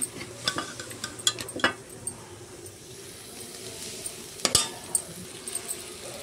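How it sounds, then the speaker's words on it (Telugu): Boiled mutton tipped into a pan of fried masala, scraping clinks of a spoon and soft sizzle with a few sharp metal knocks, close and moderately loud, no talking. "ఇప్పుడు మనం ఈ బాయిల్ చేసుకున్న మటన్ అనేది దీనిలో వేసుకుందాం"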